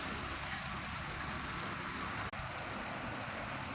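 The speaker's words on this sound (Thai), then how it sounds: "มีสายฝนโปรยปลายอันนี้คือฝนเทียมนะคะ" Artificial rain spraying steadily over a rice-planted paddy-field crab pond, a continuous even hiss of falling water with one brief dropout.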